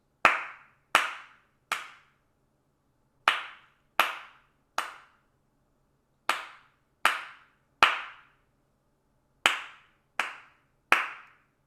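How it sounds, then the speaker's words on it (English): Bare hands clap out a steady rhythm at a changed tempo, crisp single claps in grouped bursts separated by short pauses, close and alone in a quiet room. "Now I'm gonna clap the next one and see what you think."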